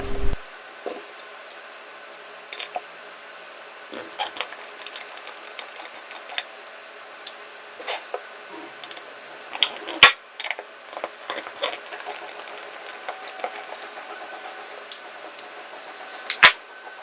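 Small screws being removed from a hard disk drive with a magnetic screwdriver, sparse faint metallic clicks and scrapes over a quiet background, with no talking.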